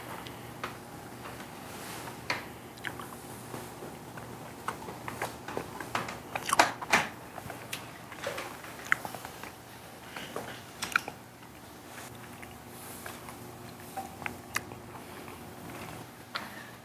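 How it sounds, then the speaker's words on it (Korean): Someone eats a white yuzu and basil mousse dessert, with soft bites, scraping and clinking utensils scattered across a quiet room and sharper clicks in the middle. "그러면 일단 하얀색부터 유자 바질 무스를 먹어보도록 하겠습니다."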